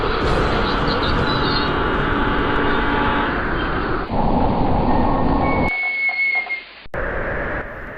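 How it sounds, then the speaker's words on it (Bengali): A cartoon train speeds through a storm at night, a loud steady rushing rumble with a whistle-like tone, then the roar drops away briefly before resuming near the end. "ঝড়ের মধ্যে প্রবল গতিতে ছুটে চলেছে আমাদের ট্রেন"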